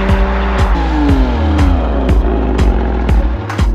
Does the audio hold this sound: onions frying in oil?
no